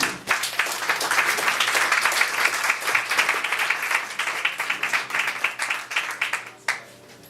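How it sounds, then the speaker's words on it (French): A small evening audience at an anniversary show claps steadily and warmly for several seconds, dense and close, tapering off near the end. "On applaudit très fort, mesdames et messieurs."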